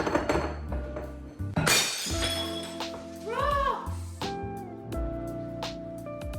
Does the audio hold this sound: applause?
no